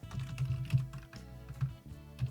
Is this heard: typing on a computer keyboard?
yes